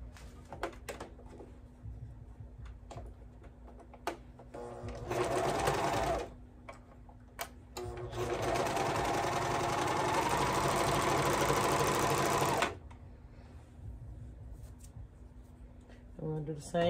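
A sewing machine stitches the crotch seam of baby bell bottoms in short bursts, first a brief run, then a longer steady whirring stretch, with quiet handling noises and talk in the pauses.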